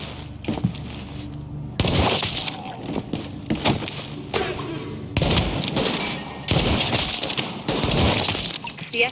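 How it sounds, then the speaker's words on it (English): Heavy gunfire pours from a rooftop gunner in The Division, with dense bursts and rattling volleys under which glass seems to shatter. The din comes in loud waves with brief lulls, and a voice speaks at points through the racket. "The escort party's taking heavy fire from the roof."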